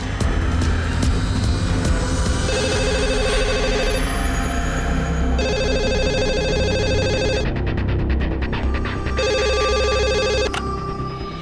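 A telephone rings in repeated electronic bursts, loud and close, over a dense wash of background noise.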